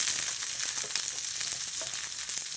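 Chopped onions frying in a pan for mushroom masala curry, a steady bright sizzle with faint crackles, close and continuous, no voices.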